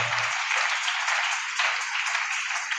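A church congregation applauds in dense, continuous clapping that swells slightly midway, loud and close, with a brief low voice at the very start.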